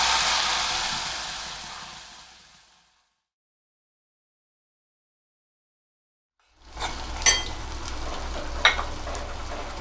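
Cooked dal poured into a sizzling tempering of asafoetida, green chillies and curry leaves: a close, hissing sizzle that fades to silence, then returns with stirring clinks and a lower bubbling sizzle, with no talking.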